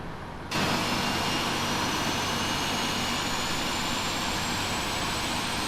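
Number one engine of a PMDG 777-200ER in the Prepar3D flight simulator spools up, a sudden loud jet roar that holds steady with a slowly rising whine, and no voices.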